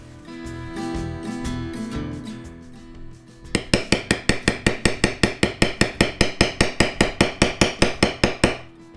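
A leather beveling tool is struck repeatedly with a mallet while tooling leather, giving a fast, steady series of sharp, ringing taps up close after a few seconds of quieter tonal knocking.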